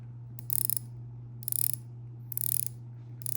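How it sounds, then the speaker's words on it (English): Four short bursts of crisp ratcheting clicks from a Timex Navi XL dive watch bezel being rotated, evenly spaced about a second apart, close and quiet over a low steady hum. "let me let you hear that bezel"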